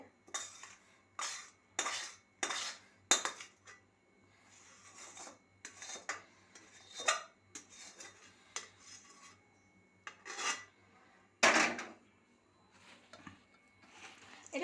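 A spoon scrapes and stirs around a bowl in repeated bursts, scraping and rubbing with brief pauses between strokes, close and fairly quiet.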